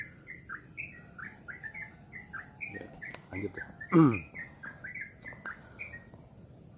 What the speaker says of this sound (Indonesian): bunyi burung